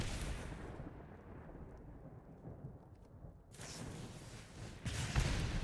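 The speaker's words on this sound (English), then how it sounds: "Lightning strike, sure." A Lightning Strike card effect in Magic: the Gathering Arena, a rumbling thunder-like boom that rolls on for several seconds, then swells again with a brighter crackling burst near the end.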